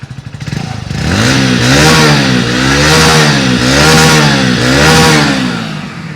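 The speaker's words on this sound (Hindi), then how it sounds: "चलिए चेक करते हैं और आपको सुनाते हैं कि इसकी एग्जॉस्ट नोट एक्चुअल" A Hero Splendor Xtech 2.0 motorcycle revs up close by, its exhaust rising and falling through several throttle blips over a steady idle, loud and with no one talking.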